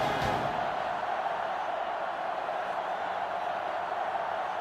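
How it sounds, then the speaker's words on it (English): Steady roar of a sellout stadium crowd in the NCAA Football 2005 video game, a Michigan versus Ohio State college football game, a continuous broad wash of crowd noise with no break and no commentary. "This sellout crowd is really making a difference now as these guys can't even call the play"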